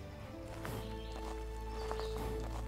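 Horse hooves clip-clopping in the farming video game Animallica, a light rhythmic patter of steps close by over a steady low game hum with faint music.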